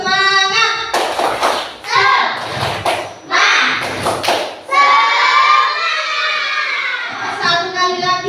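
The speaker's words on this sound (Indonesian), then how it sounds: "Tepuk semangat." A classroom group performs a rhythmic spirit clap during a teaching session, bursts of synchronized claps and thumps alternating with chanted voices and children talking, close and loud.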